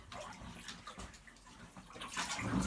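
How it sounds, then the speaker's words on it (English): Dirty rinse water from washing raw wool is poured out of a container into a toilet, giving a soft, close splashing pour that swells louder near the end. "So what I will do is just lift this up, pour it out. I pour this all out into the toilet."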